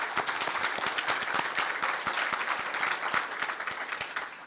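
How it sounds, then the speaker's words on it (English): A crowd gathered for the launch of the Cleveland Browns' Get 2 School attendance initiative applauds, sustained and dense clapping with sharp individual hand claps standing out, fairly loud and unbroken throughout. "Big round of applause for everybody coming out today."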